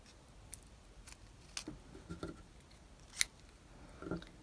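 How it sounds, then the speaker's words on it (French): Scissors snipping fine wire to finish a crocheted baby's breath flower, a few sparse, quiet clicks and snips spread over several seconds, close up and without any talking. "Ici, je peux couper le fil de fer qui est un petit peu trop long"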